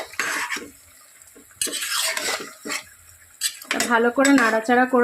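Spices and garam masala stirred in a pot for chicken biryani, with clinking spoon-on-metal scrapes and light sizzling, followed by a person speaking near the end.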